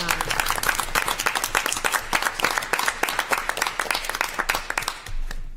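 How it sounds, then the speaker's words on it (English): School board audience applauding its retiring staff: a dense, steady burst of many hands clapping that holds for several seconds before fading out near the end. "Let's give them a round of applause for all that they've done."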